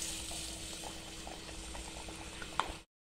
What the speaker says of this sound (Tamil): இப்போ எடுத்து போட்டுக்கலாம் ஆயிலில்.